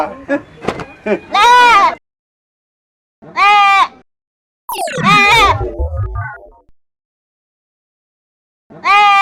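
A goat bleats loudly and close by in several separate calls with quiet gaps between them, alongside short bursts of speech and a thud.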